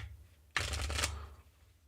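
Tarot cards shuffled hard in one brisk, close burst of riffling and slapping lasting under a second, with quiet room hum before and after.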